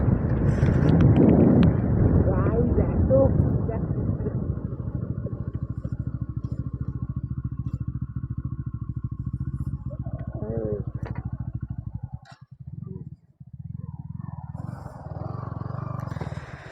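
A Yamaha R15 V4 motorcycle engine hums steadily while riding, with wind buffeting the microphone; the engine briefly drops out near the end before resuming.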